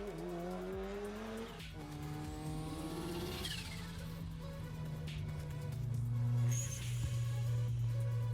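Subaru WRX and Mitsubishi Evo cars, a continuous loud engine drone with shifting pitch sweeps and rising revs, a tire squeal or skid partway through, steady and close with no talk.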